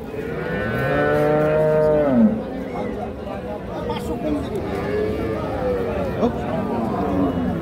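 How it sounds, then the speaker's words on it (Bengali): Holstein Friesian cows and a calf at a livestock market give a long, loud moo up close, followed by softer lowing, with people chattering and bustle throughout. "বাচ্চাটা এটা ষাঁড় বাচ্চা"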